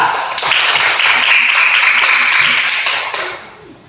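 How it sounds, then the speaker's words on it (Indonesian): A classroom of students claps for a classmate during a teaching-practice lesson, a dense, steady patter of many hands lasting about three seconds before tapering off. "silakan berikan tepuk tangan buat teman kita"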